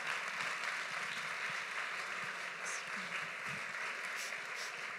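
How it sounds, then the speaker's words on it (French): Applause at an award ceremony, a continuous wash of many hands clapping at a distance, fairly faint and even throughout the few seconds. "Élodie Huldemolin, que je vous demande d'applaudir bien fort."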